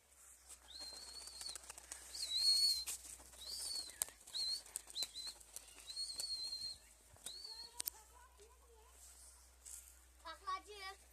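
Adana tumbler pigeons flown by a ten-year-old boy flap their wings in repeated faint bursts, with soft bird calls and a voice talking intermittently throughout.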